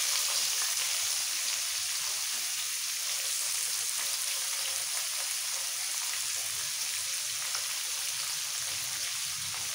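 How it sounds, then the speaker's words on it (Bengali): Chopped onion frying in a pan for masala dosa filling, a steady close hiss and sizzle with faint crackle throughout, no voices. "এবার ভাজা হয়ে গেলে দিয়ে দেবো একটা বড় সাইজের পেঁয়াজ কুচনো,"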